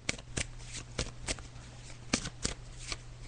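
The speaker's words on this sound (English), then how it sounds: "I'm just shuffling the cards now" Tarot cards are shuffled close to the microphone in a soft, steady rustle, broken by sharp riffling snaps at irregular intervals, with a faint low hum underneath and no talking.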